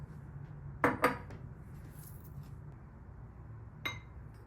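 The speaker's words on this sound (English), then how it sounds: "I'm going to place approximately 1 tablespoon of baking soda into a clear cup." Metal spoon placing baking soda into a clear cup, two quick clinks close together near the start and a third lighter clink near the end, against a quiet background.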